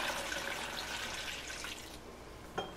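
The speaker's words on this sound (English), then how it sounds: "I'm just dividing out the batch I just made." Lemon water kefir from a freshly made batch is poured into reused apple cider vinegar bottles, a faint, steady trickle of liquid close by with a small clink near the end.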